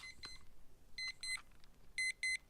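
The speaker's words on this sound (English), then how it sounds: "And you can hear the noise it would make when it goes off." An alarm clock goes off with short electronic beeps in spaced pairs, faint and close, with no one talking.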